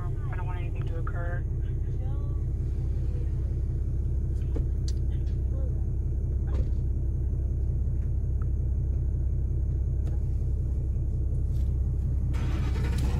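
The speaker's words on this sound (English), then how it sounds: "They're starting the vehicle now" A car engine turns over and settles into a steady idling rumble that runs throughout, with faint voices and small background sounds mixed over the continuous low drone.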